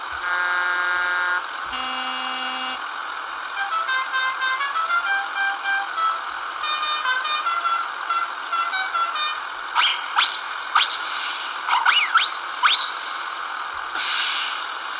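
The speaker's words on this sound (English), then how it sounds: "And then it's got all the standard truck horns." Standard truck horn effects from a Beier MSM-1 micro sound module: a string of electronic horn blasts, toots and melodic air-horn tunes, loud and close, some long and some short, then a few sharp chirping whistles.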